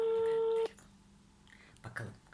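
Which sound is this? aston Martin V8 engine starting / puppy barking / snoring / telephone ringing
telephone ringing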